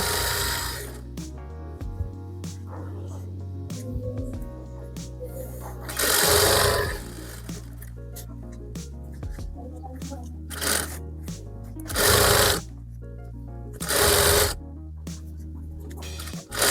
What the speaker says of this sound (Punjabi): ਐਦਾਂ ਸਲਾਈ ਲਾ ਕੇ ਤੁਸੀਂ ਇਹਨੂੰ ਤਿਆਰ ਕਰ ਲੈਣਾ ਦੋਨਾਂ ਪੱਲਿਆਂ ਨੂੰ